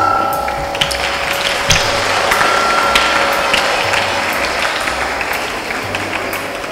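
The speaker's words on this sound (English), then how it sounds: "Let's welcome them with cheerful claps." Audience applause welcoming participants onto the stage at a school literary fest, a steady crowd of clapping hands filling the room at an even level for several seconds, with mechanical clicks and tones mixed in.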